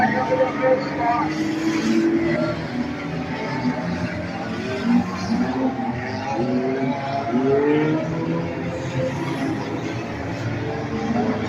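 Late model race cars roar around Beckley Motor Speedway during a 30-lap enduro feature, a dense, steady wash of engine noise with shifting pitches as cars pass, under continuous commentary.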